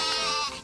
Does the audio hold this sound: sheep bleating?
yes